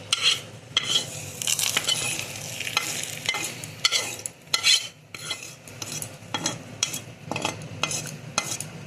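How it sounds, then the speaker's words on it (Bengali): Hot dried-chilli tempering poured over aloo dum in a home kitchen, with close sizzling and frying crackle, a spoon clinking and stirring against the pot in uneven bursts, and no one talking. "এবারে এইটাই গরম অবস্থাতে আমি এই আলুর দমের ওপরে ঢেলে"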